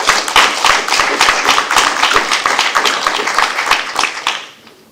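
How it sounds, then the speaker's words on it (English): Round of applause in a room at a school district board meeting, a small group clapping steadily for several seconds and then tapering off. "can we please give them a round of applause?"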